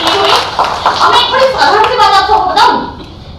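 Audience clapping at a Hindi poetry recital by a female poet, a short burst of applause mixed with voices and chatter over its full length, fairly loud and close.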